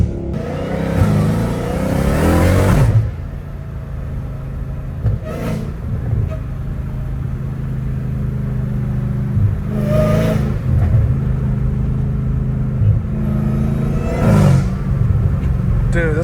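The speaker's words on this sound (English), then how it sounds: "this car sounds amazing" A catless Dodge Challenger Hellcat Redeye engine revs in several loud, close bursts, each climbing and then falling back to a deep, rumbling idle between them, heard from inside the car at night.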